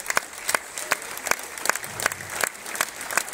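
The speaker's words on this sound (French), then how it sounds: "Vous pouvez applaudir Bernard Rivière pour ses 22 ans de bénévole du SCG" Sparse, scattered hand claps from a small crowd in the stands at a rugby club ground, for a volunteer's long service, sounding fairly distant and thin, with isolated sharp claps spaced through the moment.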